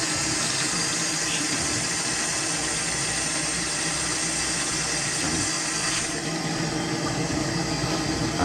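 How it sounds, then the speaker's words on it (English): A kitchen sink garbage disposal runs with water flowing, giving a steady motorized whir and rushing hum that holds evenly for about eight seconds with no talking. "And I just flush them down the sink and then run the garbage disposal."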